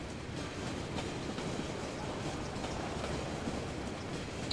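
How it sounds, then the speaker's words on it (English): A tram rolls through a city in the video game Cities: Skylines, giving a steady, continuous rail rumble with faint clicking wheel noise that holds an even loudness throughout, with no voices over it. "This is the first time we've got a tram in the city."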